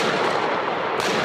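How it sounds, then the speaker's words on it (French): Sustained heavy gunfire during the Charlie Hebdo attack in Paris, a dense continuous roar of shots filling the short stretch at loud, even level with no voices. "Les tirs nourris résonnent alors"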